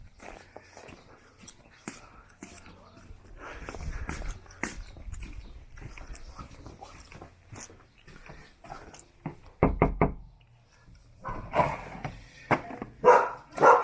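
A small Australian Shepherd named Lexi greets a visitor at a house with excited yips, whimpers and short barks. Friendly human talk mixes in throughout, and the noise grows livelier toward the end.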